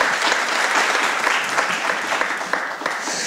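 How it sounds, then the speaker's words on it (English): Sustained audience applause at an evening literary event at Karamu House in Cleveland, a dense steady wash of many hands clapping, loud and continuous throughout. "So let's get our claps in while we can."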